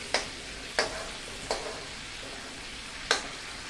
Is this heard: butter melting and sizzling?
yes